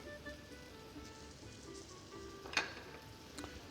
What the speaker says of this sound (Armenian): Մի քիչ ձեթով տապակենք նախ սունկը